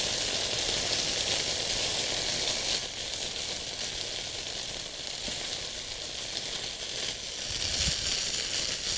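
Parotta flatbread roasts on high heat with a steady, bright sizzle and crackle close by, plus a few faint scraping touches and a small thump near the end. No one speaks.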